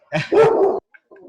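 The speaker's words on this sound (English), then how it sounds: "there's my dog. Another dog was running by." A dog lets out one loud, close bark with a short yelping lead-in, followed by a couple of faint, brief whimpering sounds.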